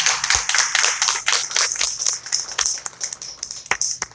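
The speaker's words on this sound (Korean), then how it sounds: "우리 하나님께 영광의 박수 드리도록 하죠." A church congregation applauds during a Sunday service, giving a dense patter of handclaps with some sharper individual claps, moderately loud and without talk.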